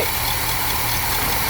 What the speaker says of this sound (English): the AC compressor came on